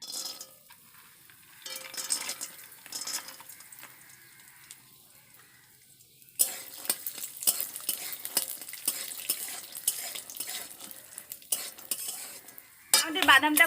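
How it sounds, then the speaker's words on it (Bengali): Peanuts hit hot oil in a wok with a sudden loud sizzle that keeps crackling. Quieter stirring and scraping come first, and a metal clink sounds near the end. "এবার আমি বাদামগুলোকে দিয়ে দেবো।"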